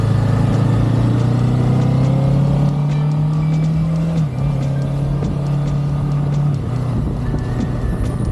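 A Kawasaki Ninja 7 HEV hybrid motorcycle's petrol engine cuts in at low speed, a steady close droning hum that rises slightly then dips as gears change, continuous throughout with road and wind noise.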